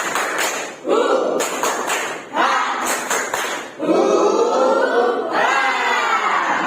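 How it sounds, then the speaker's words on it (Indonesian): A classroom of children performs a rhythmic spirit clap, bursts of patterned clapping alternating with loud group chanting, fairly close and energetic. "Tepuk semangat."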